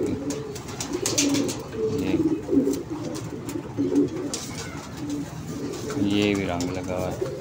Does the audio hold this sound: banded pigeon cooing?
yes